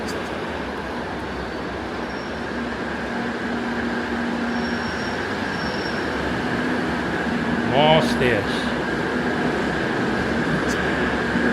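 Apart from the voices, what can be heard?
metro train arriving at station in Spain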